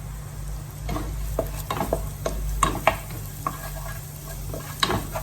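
Minced onion stirred into hot melted butter in a pan over raised heat, a steady close sizzle with repeated scraping stir strokes and spoon clicks, no voices.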